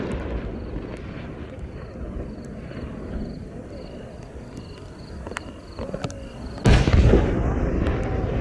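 Small traditional Japanese firework shells with forty cores bursting at a fireworks competition in Yatsushiro, a dense run of crackling pops and distant booms, then a loud sharp burst near the end over steady crowd murmur.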